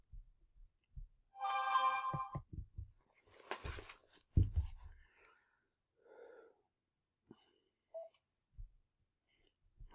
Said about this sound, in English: I got to shut my phone off.